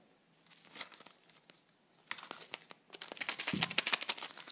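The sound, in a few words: crinkling wrapper as a Kinder Joy egg is opened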